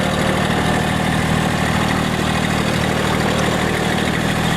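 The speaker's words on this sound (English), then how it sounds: "turn the tractor around here." A tractor fitted with new Titan pallet forks runs steadily while turning around outdoors, its loud, close engine droning at an even pitch with no talking.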